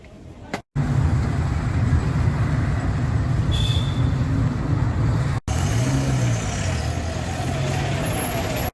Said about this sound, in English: So this is our bus traveling from Bangalore to Gokarna via Shimoga, Honavar, Kumta, Sagar, etc.